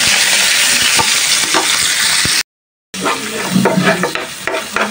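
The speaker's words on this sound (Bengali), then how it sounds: "তো মশলাটা ভালোভাবে কষায় নিছি, হলুদ মরিচ ধনিয়ার গুঁড়া সামান্য রসুন বাটা সব কিছু দিয়ে" A spice paste of turmeric, chili and coriander powder with a little garlic paste fries in a pan, a loud, close sizzle with stirring scrapes, broken by a brief gap of silence.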